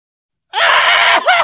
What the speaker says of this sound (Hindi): क्यों चीखे मार रहे हो?